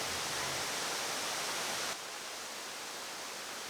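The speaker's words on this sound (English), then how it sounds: "I came to this place with the intent of experiencing to swim in a waterfall." Waterfall in Tuba, Benguet, heard as a steady broadband roar of falling water, loud and continuous throughout, dropping slightly in level midway as if the position shifts.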